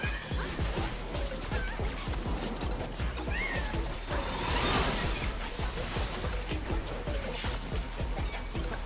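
A cat enemy meowing during a Final Fantasy XIV battle, repeated cries over busy combat effects, rapid impacts and clanging, loud and continuous without speech.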